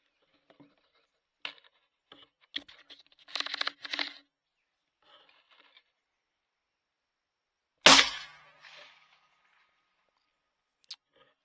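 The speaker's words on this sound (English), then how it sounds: "we're going to go ahead and take our first shot now to see exactly where we're impacting" Rifle shot fired while zeroing a Pulsar Trail 3 thermal scope outdoors, one sharp loud crack with a brief echo, preceded by faint clicks and handling noises and followed by a single late tick.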